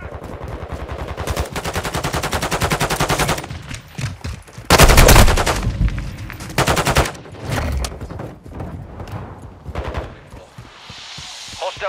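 Video game firefight with automatic weapons, loud close bursts of rapid machine-gun fire and heavier blasts packed together, dropping to scattered shots and softer rumbling toward the end.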